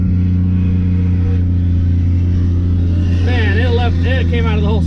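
A car fitted with a TH400 automatic transmission launches hard, its engine droning loud and steady nearby while someone talks excitedly over the noise.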